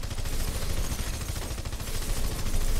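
Assault rifle fire in Red Faction Guerrilla, a sustained rapid burst of shots running nearly three seconds, loud and close, with no talk over it.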